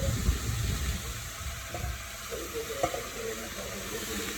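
Dried prawn gravy bubbles and sizzles steadily in a pan as it is stirred, with a soft spoon scrape or two, a quiet close-up cooking sound with no talk.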